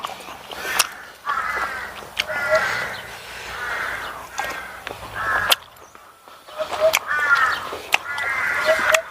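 Crows caw repeatedly in harsh, raspy bursts, several calls in a row with short pauses between groups, fairly close and loud.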